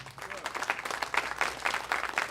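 An audience gives steady applause, with dense, even clapping, for a country band at the Ernest Tubb Midnite Jamboree. It is heard from a moderate distance with no voices over it.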